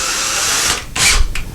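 A power drill slowly boring into drywall to take a drywall anchor, a close steady whirring for most of a second that stops, then a sharp burst of grinding and a brief final whir.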